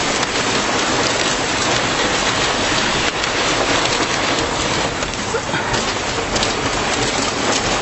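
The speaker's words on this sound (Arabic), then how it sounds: "كمية البرد اللي موجودة غير عادية" Loud, dense roar of heavy rain and hail pounding a surface, steady and unbroken throughout, with no voices.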